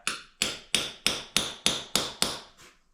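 Eight sharp metallic hammer strikes on a setting tool land in an even rhythm, loud and close, followed by a softer final tap, while bolting down a manual tire changer.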